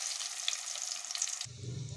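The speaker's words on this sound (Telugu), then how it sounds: "మనం వేసిన ఉప్పు కారం పసుపులోనైతే బాగానైతే అలా వేగనివ్వండి" Egg pieces fry in a pan of oil seasoned with chili powder, turmeric and salt, giving a soft steady sizzle with faint crackles and a low stirring rumble near the end.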